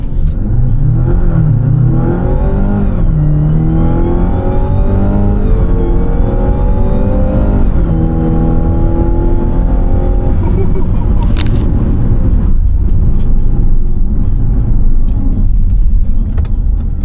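A Mazda CX-80 PHEV accelerates hard from a standstill, its engine revving and climbing through several gears with rising whine, each shift dropping the pitch before it surges again, loud and close.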